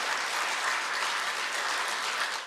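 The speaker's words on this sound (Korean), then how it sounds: "큰 박수로 환영해 주시면 감사하겠습니다" A church congregation applauds loudly in a sustained, dense wave of clapping with no break, steady from start to finish.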